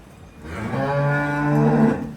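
A crossbreed cow that recently calved gives one long, close, resonant moo, rising in strength and holding steady before fading, heard alone without talk.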